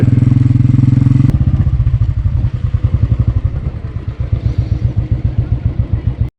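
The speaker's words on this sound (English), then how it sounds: "Motorcycle is slipping a little bit." A motorcycle engine thumps in a steady, fast pulse up close, with rattling clatter and crunching as it rides over a rough, loose gravel road in Ladakh, slipping a little.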